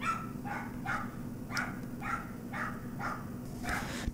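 A dog barks repeatedly in a steady rhythm, about eight sharp barks over a few seconds, fairly close, over a constant low background hum, with no talking.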